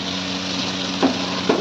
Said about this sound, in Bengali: খানিকক্ষণ ভাজা হোক।